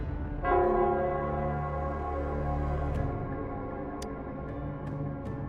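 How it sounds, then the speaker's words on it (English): In the video game Wuthering Waves, the Nell Squares bell tolls faintly in the distance, a soft sustained ringing over a low ambient drone with a few light, sharp ticks. "it's the Nell Squares bell."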